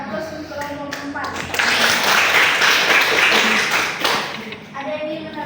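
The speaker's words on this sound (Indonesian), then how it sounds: "Kita berikan aplaus untuk kelompok 4." Applause for a student group in a chemistry classroom: a burst of clapping swells from scattered taps into dense sustained applause for a few seconds, mixed with children's voices, then fades back into talk.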